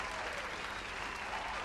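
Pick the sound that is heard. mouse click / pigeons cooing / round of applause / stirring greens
round of applause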